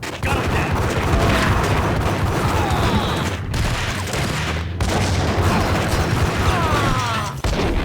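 Loud, continuous shotgun blasts and other gunfire in the Max Payne video game, dense overlapping shots with only brief gaps, close and harsh throughout.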